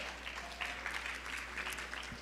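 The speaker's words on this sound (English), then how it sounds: "Let's take a moment and clap our hands while I check in." An audience claps at an annual luncheon in San Francisco, a soft, scattered patter of hands heard at a distance over a steady low hum, without any clear voices.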